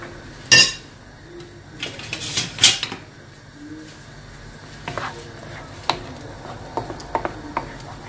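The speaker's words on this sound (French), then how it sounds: "il faut toujours mélanger, sinon ça va coller" Eggs being stirred in a frying pan for chicken pastilla, with scattered scrapes and clinks of a utensil against the pan over a soft sizzle, close and fairly quiet.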